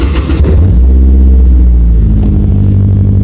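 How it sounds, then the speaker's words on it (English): A Honda S2000 engine starts loudly and close. It quickly settles into a deep, steady rumble. "Which means we have to start the car again."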